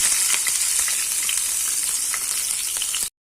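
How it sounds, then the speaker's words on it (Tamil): Mustard seeds crackle and pop in hot oil while tempering for a brinjal masiyal, a dense, steady sizzle with sharp little bursts, close and fairly loud, ending abruptly. "இப்போ கடுகு பொரியுது"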